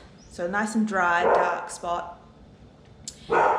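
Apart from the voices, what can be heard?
dog barking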